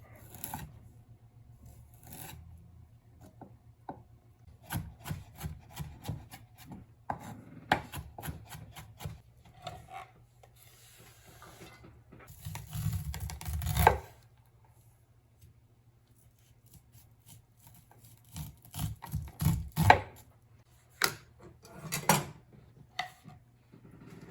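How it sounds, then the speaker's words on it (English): A knife slices and dices a radish on a cutting board in quiet bursts of quick, close chopping taps, separated by pauses. "you're just gonna slice it up and then dice it up"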